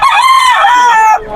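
A young rooster, a stag, gives a single loud, close crow at a pet market in Bocaue, one drawn-out call lasting just over a second.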